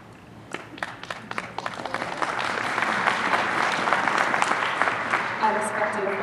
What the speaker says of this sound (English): Unexpected applause moment.